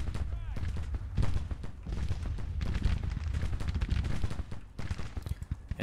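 Rifle volleys in the Civil War strategy game Grand Tactician rattle steadily as dense crackling gunfire with deep booming rumbles underneath, with someone talking over it.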